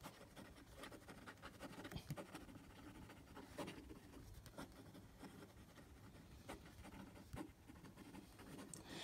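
Delike black metal pocket fountain pen writing quickly on paper, a steady close-up scratch and rustle of the nib with brief pauses and small taps as the pen lifts and lands.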